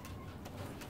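A mature paired pigeon makes a soft, low cooing, heard up close as a short burst with a steady throaty pulse. No one talks over it.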